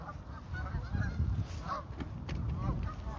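Geese honking near water on a snowy day, several calls overlapping at moderate distance against a soft background murmur.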